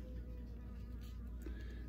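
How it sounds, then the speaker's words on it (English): Nurse bees tending a queen bee inside a small mailed queen cage give off a faint, steady insect buzz that runs unbroken and close for the whole moment. "there's a four or five little nurse bees in there taking care of her."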